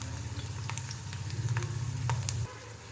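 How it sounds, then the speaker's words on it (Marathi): Potato slices frying in hot oil give a steady bubbling sizzle with soft pattering crackles, continuous and close, easing to a quieter hiss near the end; no one talks. "आता बघा हे सगळं मी असं मस्त तळून घेते."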